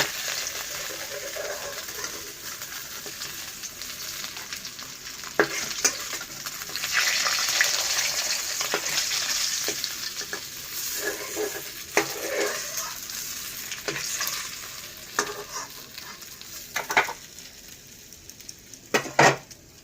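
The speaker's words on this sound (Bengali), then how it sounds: "মাছটা ভাজা হয়ে গেছে" Fish pieces frying in oil in a pan make a steady sizzle, broken by scraping and clinks of a utensil against the pan as the pieces are turned and lifted out.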